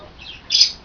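A pet peach-faced lovebird or green-cheeked conure lets out a single loud, shrill squawk close by, preceded by a fainter chirp in a quiet room.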